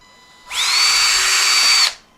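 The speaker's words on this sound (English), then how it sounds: "Drills really easily with the carbon fiber on it." A power drill bores a hole through carbon fiber: one close, loud, steady high whine that spins up quickly, holds for over a second and then stops.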